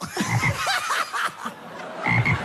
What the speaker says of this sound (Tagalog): Palaka naman ngayon.